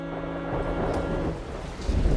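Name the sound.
rain with thunder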